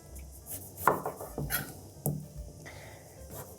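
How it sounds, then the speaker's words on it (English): A knife slices through a lime on a cutting board in a home kitchen, a few distinct crisp cuts and board knocks spaced unevenly, close and fairly quiet with no talking. "We're gonna slice up one of these limes."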